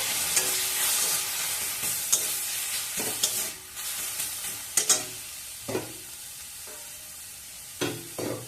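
Spice paste of turmeric, chili and coriander powder mixed in water sizzles in hot oil for Bengali-style bhindi masala, with repeated clatters of a spatula stirring through a steady crackling fry.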